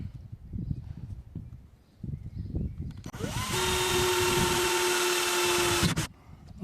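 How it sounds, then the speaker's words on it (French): A power drill bores a pilot hole through thin car body sheet metal during a hood replacement, a steady high whine lasting about three seconds that stops abruptly, after low scuffing handling noises. "j'ai plus qu'à aller chercher une perceuse et percer"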